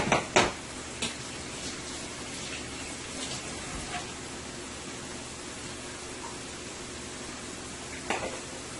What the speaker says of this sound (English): I'm going to let that set continue to fry.